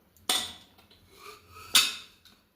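A pressure cooker holding a potato and chana dal curry being opened once fully cooled, giving two sharp metallic clanks of the lid and weight about a second and a half apart, close by, with faint rattling between them.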